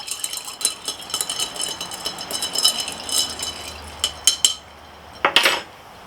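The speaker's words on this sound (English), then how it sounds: "Now you go ahead and stir this around." A spoon stirs a Bahama Mama cocktail in a glass, making a continuous run of light clinking and rattling close by, ending with a few sharper clinks.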